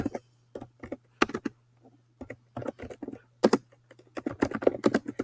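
Fingers tap on a computer keyboard in uneven bursts of crisp, close clicks, separated by short pauses, over a faint steady hum.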